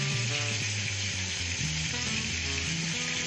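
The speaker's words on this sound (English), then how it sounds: "We turn that over in the pan." Steak sizzling in a frying pan, a loud and steady close-up hiss with a faint crackle and no voices over it, while a low, wavering hum runs underneath.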